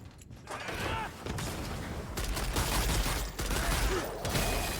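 Rapid minigun-like weapon fire in the online game Lost Ark, a dense, continuous mechanical rattle of shots sustained throughout at steady, fairly loud level with no speech.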